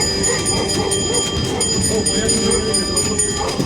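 Nostalgic tram running through Pendik, a continuous loud rumble with rattling and high squealing tones, with people talking over it throughout.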